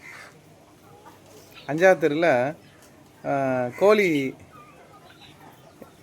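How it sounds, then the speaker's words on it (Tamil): Country chickens for sale in Tuticorin give two loud, close bursts of clucking and squawking in a quiet outdoor setting, with low background noise between calls. "கோழி இது நாட்டுக்கோழி."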